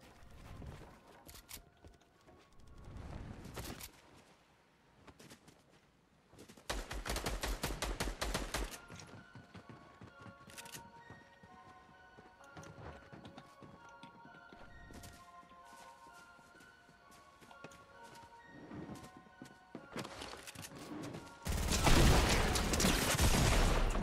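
Gunfire in the Fortnite video game on the Bugha's End Game map, bursts of rapid shots interspersed with single cracks and louder sustained volleys toward the end, with no voices.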